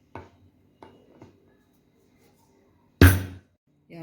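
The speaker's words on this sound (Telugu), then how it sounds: "దంచేద్దామండి." Black pepper, dry ginger and jaggery being pounded in a mortar: a few sparse, dull thuds, then one heavier, louder blow and a final knock, with quiet gaps between and no speech.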